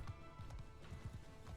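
Many horses gallop in a cavalry charge in Mount and Blade II: Bannerlord, a dense continuous drumming of hoofbeats over a steady rumble, quiet and fairly distant throughout.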